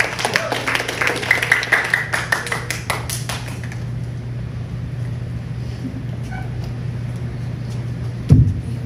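A congregation applauds their pastor at a sermon, scattered hand claps building quickly and then fading within a few seconds, leaving a quiet hall with a steady low hum.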